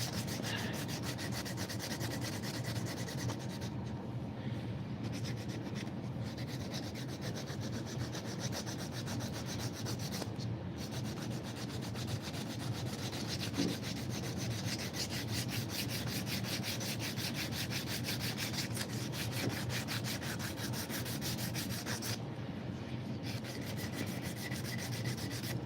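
Continuous rhythmic rubbing and scraping of hand sanding on a metal knife blade, steady strokes repeating with brief pauses, fairly close and moderately quiet.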